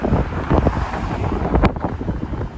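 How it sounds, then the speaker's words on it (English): Strong wind buffets the microphone in loud, continuous gusts, with a low roar that swells and dips, including a sharp blast near the middle. "It is crazy, crazy windy here."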